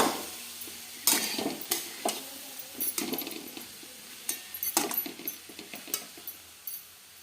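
Cabbage stirred and frying in a pan over low heat, with a steady soft sizzle broken by repeated clinks and scrapes of a spoon against the pan, close and moderately loud, no talking.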